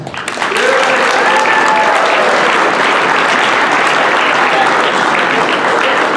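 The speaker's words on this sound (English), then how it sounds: "Big round of applause for Patrick Smith." Loud, sustained applause from a crowd at a high school student recognition assembly, steady clapping filling the whole stretch after a brief quieter start.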